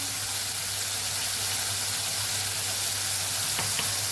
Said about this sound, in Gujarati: તો ટમેટા આપણે સતડાય છે